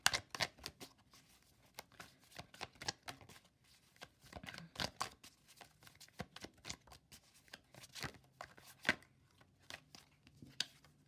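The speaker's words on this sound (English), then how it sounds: "I shuffle till one card falls out." Tarot cards being shuffled by hand give off irregular bursts of crisp riffling and slapping, close and fairly quiet, with short pauses between runs.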